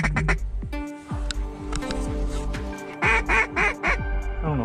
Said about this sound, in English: Oh, there's a bunch of ducks already on it.